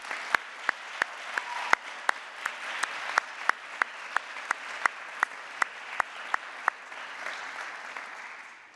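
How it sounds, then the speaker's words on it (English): Graduates at a Liverpool University graduation ceremony applaud their families and friends, a broad wash of crowd clapping with one person's sharp, evenly spaced claps ringing out close by before they stop and the applause carries on. "I'd like to invite the graduates to applaud their family and friends."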